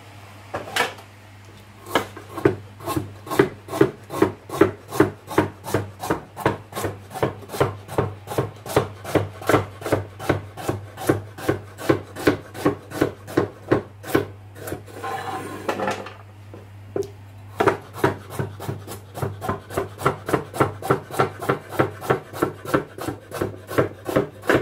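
Knife chopping vegetables on a board for a chicken vegetable curry, a long run of steady, rapid, evenly spaced chops close up, with a brief pause midway before the chopping resumes over a low kitchen hum.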